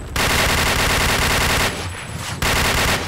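Gunfire in the first-person shooter game Point Blank comes as loud sustained automatic bursts, one long rattle, a brief lull, then another burst.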